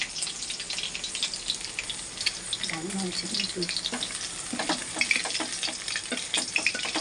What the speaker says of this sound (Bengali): আরও কিছু এখানে ভাজা হচ্ছে,